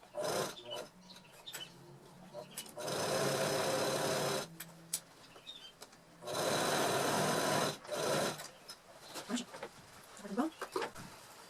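A sewing machine stitches the lining of a fabric pouch in two long sustained runs, with quieter handling noises and pauses between them.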